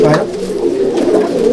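Malbai/Panjabi pigeons in a loft coo in a loud, close, continuous low throaty warble that fills the short moment without pause.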